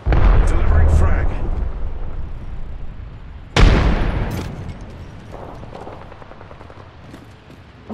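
A frag grenade goes off in Apex Legends with a sudden loud blast that rolls into a decaying rumble, set among ongoing gunfire and battle noise.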